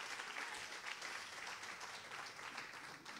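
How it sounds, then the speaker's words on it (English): Steady audience applause at an early childhood policy forum, a dense continuous patter of many hands held at an even level for about three seconds with no voices standing out. "let's give one more round of applause for those kids"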